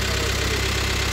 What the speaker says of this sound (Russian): Мотор работает громко, честно скажу, громко.